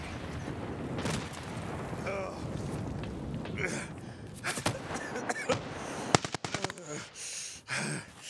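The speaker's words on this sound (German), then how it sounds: "Granaten kommen." Explosions and bursts of gunfire in a German-language shooter game session, loud sharp blasts clustering toward the end over a busy battle din, with a voice talking throughout.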